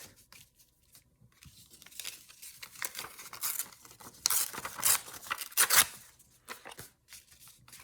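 Paper for a small handmade booklet ripped by hand in short, uneven bursts of tearing and crinkling, close and fairly quiet, with a louder stretch of tearing near the end.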